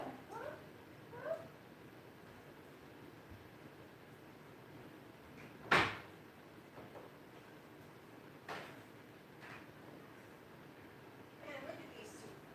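Indoor cats give a few soft, scattered meows in a quiet room. A single sharp knock or click sounds near the middle against faint, steady background noise.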